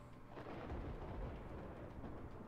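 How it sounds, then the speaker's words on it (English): Thunder in the video game A Way Out, a deep continuous rumble rolling through the low end at steady loudness for a couple of seconds, with no talk over it. "Let's time it with the thunder."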